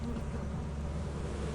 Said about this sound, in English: There are bees right there, I can't help but notice.